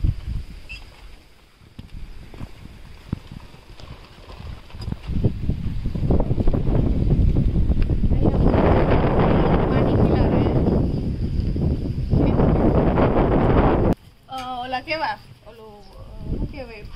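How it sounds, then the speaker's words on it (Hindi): Strong wind at a farm house roars and buffets the microphone for several seconds in heavy rushing gusts, then drops off as a person starts talking near the end. "यहाँ पे ना बहुत ही तेज हवा चल रही है"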